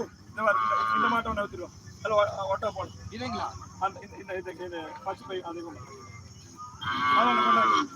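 Cattle moo at a busy cattle market in Kannapuram, with two loud, drawn-out calls at the start and end and people talking nearby in between.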